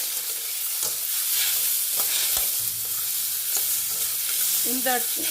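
Chopped tomatoes sautéing in a pan for Karnataka-style tomato bath, a steady loud sizzle with repeated scraping stir strokes, no talk.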